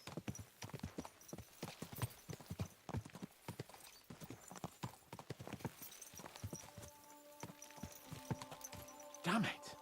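Rapid clip-clop of galloping horse hooves in the video game Kingdom Come: Deliverance 2 runs throughout, loud and close, with a horse's whinny near the end and some talk mixed in.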